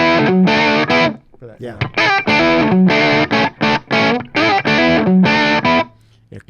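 Electric guitar through a Keeley Super AT Mod overdrive pedal in the fat position, playing loud, aggressive distorted chords in rhythmic bursts with short gaps between them, close and upfront, with a brief spoken word near the end.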